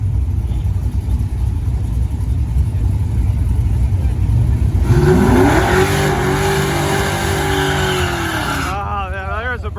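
A drag racing car does a burnout at a summer drag event. A loud engine idles and rumbles, then revs hard while the tires squeal for several seconds before the engine drops off. Voices talk quietly underneath.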